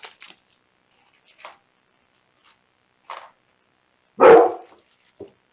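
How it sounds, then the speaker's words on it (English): A dog barks indoors during an unboxing of a Midea U-shaped inverter window air conditioner, a few short, sparse yaps and one louder bark, separated by silence. "And we have Kobe barking"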